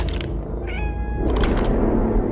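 A cat meows once, clear and close, over a steady bed of background game noise in a Roblox Brookhaven session.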